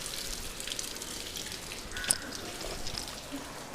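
Water splashing and trickling from cupped hands while washing the face during ablution, soft continuous hiss of running water with a brief sharper splash midway, faint and close.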